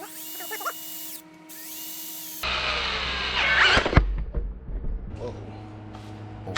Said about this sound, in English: You're going to take your impact, and you are going to not necessarily tighten it all the way down